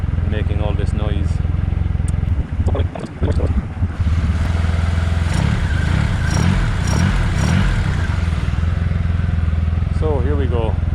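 A Triumph Rocket III motorcycle engine idles steadily during throttle synchronisation, a loud continuous low rumble that holds throughout with brief clatter, while someone talks over it.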